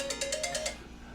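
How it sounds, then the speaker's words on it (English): A mobile phone ringtone chimes in a quick run of about six bright repeating pulses, then stops abruptly and leaves quiet room tone. "There's my phone"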